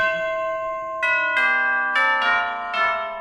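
Bells ring in the snowy village of Snowville in a video game, four or five clear, resonant strikes about half a second apart, each leaving a long shimmering decay, with no talking.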